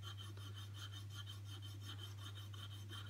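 A paring chisel's back is rubbed steadily on a sharpening stone, a continuous close abrasive rasp with a faint rhythmic push-and-pull pulse and no voices.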